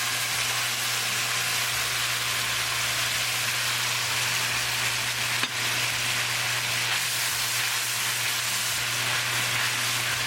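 Semolina (sooji) halwa is stirred in a pan after the sugar syrup goes in, giving a steady, close sizzling hiss that runs unbroken the whole time with no talking.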